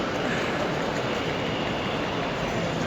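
A train at Milan railway station produces a steady, loud rolling rumble and hiss, sounding from on board or close by, continuous throughout with no distinct talk.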